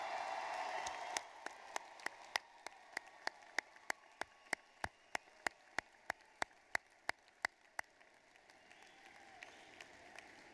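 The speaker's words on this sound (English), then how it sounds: "Audience, let's give them a great applause." At a Virginia Western commencement ceremony, the audience gives graduates a soft swell of applause at first, then a single sharp, evenly spaced clap repeats about two per second for several seconds before it thins out.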